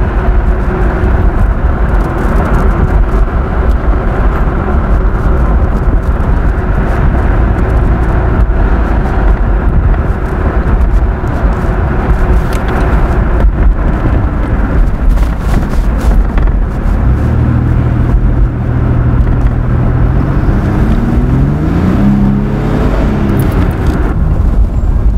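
Steady road and engine noise from a 2000 Chevy Blazer cruising along, with a constant low rumble and wind rush throughout.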